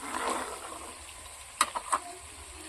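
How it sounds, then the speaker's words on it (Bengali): Beans and peas fry in a pan for fried rice, with a soft sizzle and a few sharp clinks and scrapes of stirring near the end. "এবার এগুলো আমি ভালোভাবে ভেজে নেব।"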